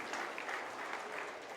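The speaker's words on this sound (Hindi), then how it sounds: "सब लोग ताली बजाएंगे।" Steady applause from an audience at a Bihar Day political event in Chhattisgarh, a dense continuous patter of clapping lasting throughout without pause.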